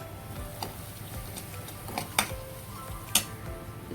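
Chopped onion frying for a chicken rassa curry in a pan on a low flame, a soft steady sizzle with a few sharp ticks and pops standing out, close and alone with no voices.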